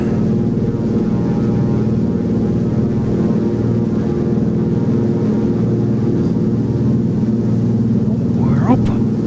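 A light aircraft engine drones at a steady, loud, full-power pitch during takeoff, heard from inside the cockpit with a constant rumble and no breaks.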